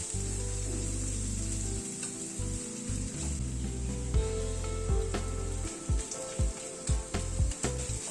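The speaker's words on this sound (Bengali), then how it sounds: "আবারও পুরো মশলাটাকে মিনিট 2 মতো একটু ভেজে নিলাম।" Whole spices sizzle steadily in hot oil in a pan for pulao, a bright continuous frying hiss with intermittent scraping and clinks of stirring, close and alone without any voices.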